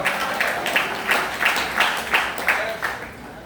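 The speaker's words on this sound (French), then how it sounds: "On peut s'applaudir ce matin, frère et sœurs" A church congregation claps along in a regular rhythmic beat, roughly two claps per second, steady and moderately loud, heard from across the room.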